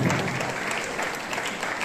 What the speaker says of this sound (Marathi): त्यामुळे त्यांचं जोरदार टाळ्या वाजवून स्वागत करा